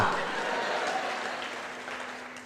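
Applause from an audience at a public Ganesh festival stage event, a steady wash of many hands clapping that holds evenly throughout, with a crowd murmur underneath.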